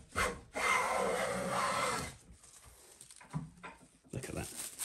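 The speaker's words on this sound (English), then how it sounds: "Let's see the shaving that comes off it." A hand plane is pushed along an oak board, producing two rough, rasping strokes of wood being shaved, the first long and loud, followed by quieter scraping and handling noises with a little background talk.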